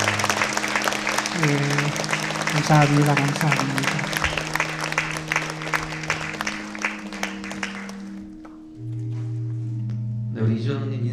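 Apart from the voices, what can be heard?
applause from church congregation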